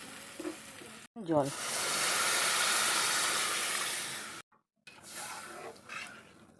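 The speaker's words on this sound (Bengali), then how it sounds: "এখন আমি এর উপর দিয়ে দেবো জল" Water is poured onto hot, well-fried masala for a potato and prawn curry, setting off a loud rushing hiss and sizzle that lasts a few seconds, then cuts out and gives way to softer bubbling.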